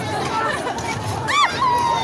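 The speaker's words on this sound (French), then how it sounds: "on va se frayer en chemin dans la foule. C'est pas facile parce que c'est noir de monde." At night in La Ronde amusement park, a dense crowd fills the scene with steady babble of many overlapping voices close by, and a high-pitched shriek rises briefly above the hubbub.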